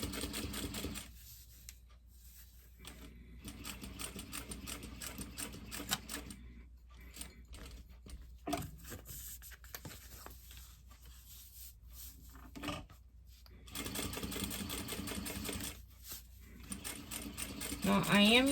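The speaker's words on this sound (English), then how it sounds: "Now, I am using an industrial machine. I have a Juki DDL 8700 series." Juki DDL-8700 industrial sewing machine stitching a seam in bag lining fabric, a fast mechanical whir that runs in bursts with short pauses and back-stitching at start and end.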